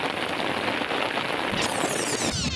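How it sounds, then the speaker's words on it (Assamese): Heavy rain pours over an open field beside a pond where cattle graze, a dense, constant hiss of drops hitting water and ground with no talking. "পূৰা বৰষুণ দি আছে"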